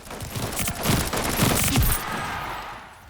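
Gunfire in the arena shooter game Splitgate comes as rapid, punchy bursts of shots over about three seconds, loud and up front, then fades out.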